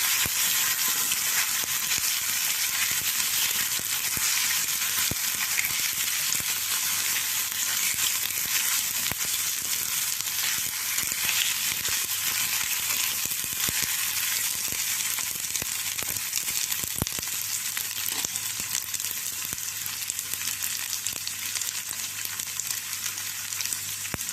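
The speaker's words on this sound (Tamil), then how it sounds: "ஈரலை அதை வந்து இந்த இனிப்பு தூக்கி போட்டு வதக்கிடுவேன்" Loud, continuous sizzling of liver sautéing in a hot pan, with occasional stirring scrapes and crackles throughout, no voices.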